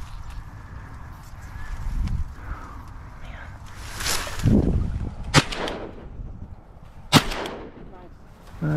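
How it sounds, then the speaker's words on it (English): Two sharp, loud 28 gauge shotgun blasts crack out a couple of seconds apart during a duck hunt, with wind and faint movement in between and voices nearby. "That was a bad shot."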